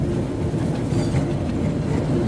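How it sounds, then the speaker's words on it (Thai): A train rumbles steadily past nearby near Bang Sue railway station in Thailand, a continuous low roar with faint rattling of wheels on track, no voices. "ไปแล้วครับรถไฟ"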